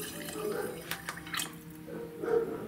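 Water poured over sprouting seeds to soak them at home, splashing and trickling in a few short pours with brief drips in between, close by.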